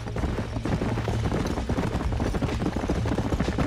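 Steady clip-clop of horse hooves pulling a wagon in the video game Red Dead Redemption, an even trotting rhythm with faint rolling wheels underneath, moderately close and unbroken throughout.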